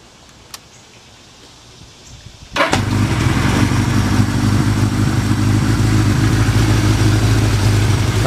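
A 1982 Suzuki GS1100E motorcycle fires up after a quiet moment and settles into a steady, loud, close idle with a low mellow rumble through its exhaust, no talk.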